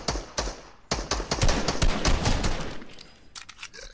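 Rapid bursts of gunfire in Fortnite, sharp repeated shots in quick volleys, loud and close, with short gaps between bursts.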